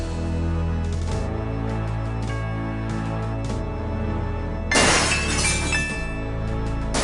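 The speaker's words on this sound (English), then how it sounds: "Gabriel hears the faint sound of breaking glass" Glass shatters once in the Gabriel Knight: Sins of the Father game, a sudden bright crash that rings out over steady background music and then fades.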